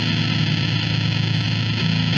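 Electric guitar played through an AmpliTube X-Drive Russian-style fuzz pedal, a thick, saturated sustained tone with a steady buzzing drone and low-end body, loud and continuous with no talking.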